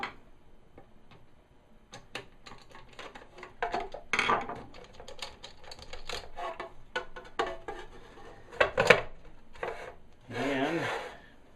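Small screws are worked loose from the back casing of a vintage promotional novelty AM transistor radio, giving close, irregular ticks, scrapes and rubbing clicks of a screwdriver on plastic and metal, with a brief rustling burst near the end.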